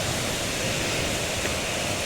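Kulimagod Falls roars as a steady, dense wash of falling water, with no talking.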